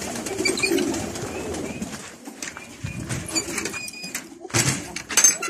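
Pigeons cooing in a backyard poultry area, soft repeated throaty coos at moderate distance over a low, busy background, with a brief clatter partway through.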